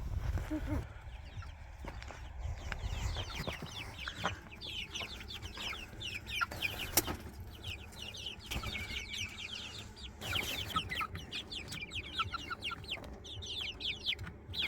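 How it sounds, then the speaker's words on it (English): Chickens cluck and chatter nearby in a busy, overlapping stream, with rustling and a few faint voices in the background. "Come on, Daisy, let's go check on these chickens."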